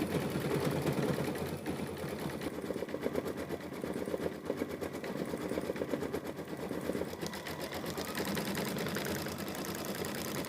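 Sewing machine running steadily as it stitches thread fills on a small quilted chick appliqué for a mini quilt, a continuous rapid mechanical patter held at an even, moderate level throughout.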